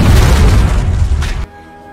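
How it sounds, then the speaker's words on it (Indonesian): A loud, heavy explosion booms and rumbles for about a second and a half, then cuts off abruptly to near silence. "kedua pelacak di badan mereka pun langsung meledak"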